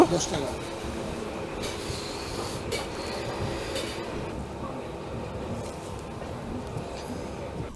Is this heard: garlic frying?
no